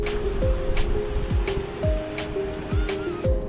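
Ocean surf rolls in at Lasti Beach in Bali in hurricane-force wind with two-metre waves, making a continuous wash with steady tonal hum and repeated thumps over it.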